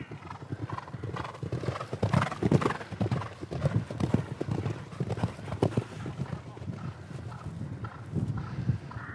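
Horses move about in a stable, including two young ones. Hooves clop in an uneven rhythm on a hard floor, with an occasional whinny and faint voices underneath.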